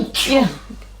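A person sneezes once in a home kitchen where roti is being made, a sharp close burst of breath and voice lasting under half a second, followed by a brief quieter vocal sound.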